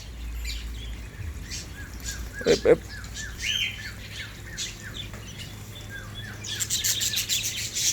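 An Aceh white-rumped shama sings in repeated short chirps and whistled notes, with a couple of louder squawks and a burst of bright high calls near the end, over faint background noise.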